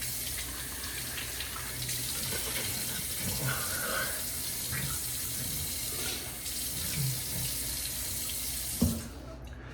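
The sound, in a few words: water running from a tap while wetting face before shaving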